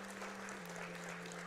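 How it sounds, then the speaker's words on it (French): An audience at a speedrun event gives a round of applause, a steady sustained wash of clapping heard at low level over a faint constant hum. "Can we get another round of applause for these guys here?"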